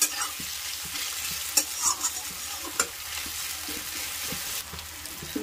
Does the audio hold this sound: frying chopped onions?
yes